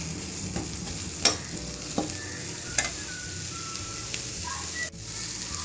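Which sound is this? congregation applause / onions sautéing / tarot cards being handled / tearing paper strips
onions sautéing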